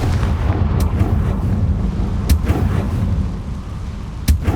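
Bombarda and Confringo blast spells in the Hogwarts Legacy video game: a loud, continuous rumbling roar with sharp explosive cracks bursting out about three times.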